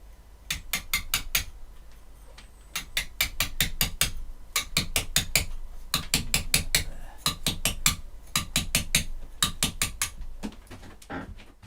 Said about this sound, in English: It's a slightly different technique with the chisel that I'm using here, because I'm taking a flowing form